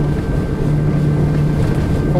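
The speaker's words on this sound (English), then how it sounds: "Bury the throttles, and it's got a load of mid-range torque there," Engine roar of a 2017 Axopar 37 Cabin motorboat under full throttle, a steady loud drone with a strong low hum and wind rush over the water, continuous with no pauses.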